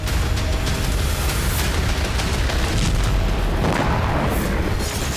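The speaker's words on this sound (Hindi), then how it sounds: "ये धमाके इजराइल ईरान के बीच होने वाली जंग की बुनियादी कर रहे हैं।" Blasts from an Israeli military bombardment of Syrian cities, a dense, roaring wash of booms and rumbling that continues without a break at loud volume.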